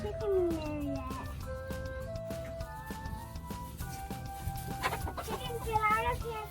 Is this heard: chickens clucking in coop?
yes